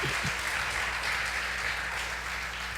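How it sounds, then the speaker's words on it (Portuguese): A church congregation applauds during a Sunday celebration service, producing a steady, even wash of clapping that holds at a fairly constant level throughout, heard from a moderate distance with a faint low hum beneath. "Dê um lindo aplauso ao Senhor"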